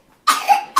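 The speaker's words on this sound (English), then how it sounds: "The baby just coughed in this other baby's face." A baby gives a single short, sharp cough up close, followed by a brief second cough burst, with no talking over it.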